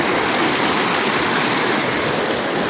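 A strong stream current rushes on a hike at Rocky Island. The water makes a loud, dense, continuous roar from nearby and drowns out everything else.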